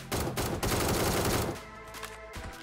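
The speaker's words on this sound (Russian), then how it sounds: "он прям по нему стреляет" Rapid automatic gunfire in the Metro Royale game mode rattles in dense, loud bursts for over a second, then thins into scattered shots and game noise.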